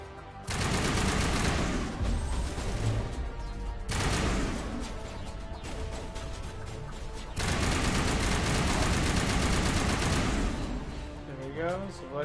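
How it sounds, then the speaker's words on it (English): Gunfire in the video game Mass Effect Legendary Edition: long sustained bursts of rapid automatic shots, loud and close, broken by brief pauses, with voices speaking in the mix. "Because I'm shooting."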